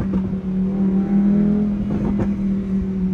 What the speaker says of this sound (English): Just listen to the sound of that engine. With naturally aspirated engines being so rare these days